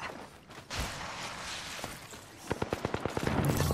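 Gunfire in the Apex Legends video game: a few scattered shots early on, then a rapid burst of about eight sharp reports in a steady rhythm, with a whooshing rush at the end.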